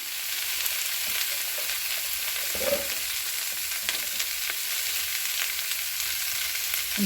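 Three or four sliced onions frying in a pan make a steady, dense sizzle close by, with one brief stir or clink partway through and no talk.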